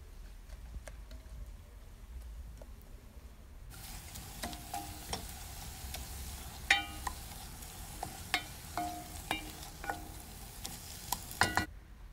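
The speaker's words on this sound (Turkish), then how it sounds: "Güzelce kıymamızı da kavuralım." Lean minced beef fries in a pan with a steady soft sizzle, while a utensil scrapes and taps against the pan in irregular stirring clicks close by.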